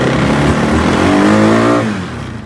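Honda DCT automatic transmission vehicle in four-wheel drive, engine revving loudly and close, pitch climbing and slipping through a gear before dropping off at the end.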